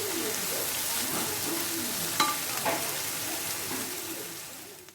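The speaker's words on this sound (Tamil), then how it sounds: "சீக்கிரம் வதங்கிறதுக்கு உப்பு சேர்த்து வதக்கிக்கிறோம்." Onions and spices sautéing with salt in a pan for a Tamil dry fish gravy, a soft steady sizzle with a few light scraping clinks midway, fairly quiet and fading toward the end.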